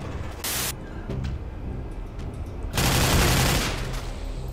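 Gunfire in Counter-Strike Source, sustained automatic fire crackling throughout with a louder, denser burst of shots toward the end, harsh and noisy in the foreground.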